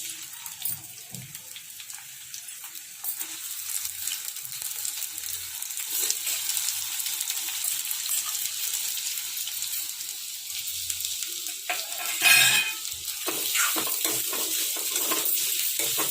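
Chopped onion frying in two spoons of hot oil in a kadai, giving a steady, close, broadband sizzle with a brief louder splash of crackling midway.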